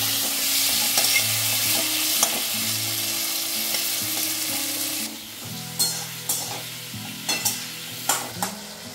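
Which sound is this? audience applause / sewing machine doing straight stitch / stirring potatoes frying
stirring potatoes frying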